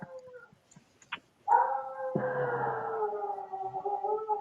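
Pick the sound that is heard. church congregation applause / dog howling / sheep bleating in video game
dog howling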